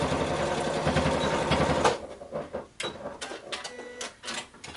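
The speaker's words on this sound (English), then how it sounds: "I just place it here and do front back stitch." A sewing machine stitches a folded fabric tab onto a zippered pouch. A steady mechanical whir runs for about two seconds, then the motor starts and stops in short bursts for back-and-forth stitching, close up.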